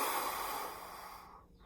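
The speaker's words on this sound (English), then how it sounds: "It covers up my nose so that when I breathe in like this, any germs in the air get stuck on outside of my mask. And if I breathe out like this," Breathing out through a cloth face mask, a soft, close breathy exhale that fades out toward the end, with no talking.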